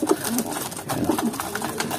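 Checkered racing pigeons coo in low, soft murmurs, several birds overlapping continuously at close range amid a busy, noisy background.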